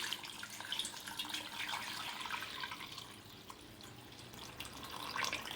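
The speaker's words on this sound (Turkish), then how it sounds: "ve sıcağa yakın suyumu ilave ediyorum." Near-hot water poured from a kettle or jug into a cooking pot for stuffed artichokes, a steady splashing pour at close range that runs alone for several seconds.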